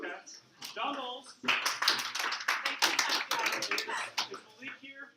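A group in a meeting room claps in short bursts as names are read out, the claps loud and close, mixed with a lot of talking between and over them.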